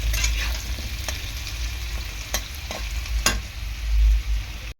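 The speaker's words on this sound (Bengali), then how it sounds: "তা আলুটাকে দেখো এরকমভাবে আমি ভেজে নেব" Potato pieces fry in oil in a pan with salt and a little turmeric, giving a steady close sizzle with a low rumble beneath and several sharp stirring scrapes and taps spread across the clip, with no talk.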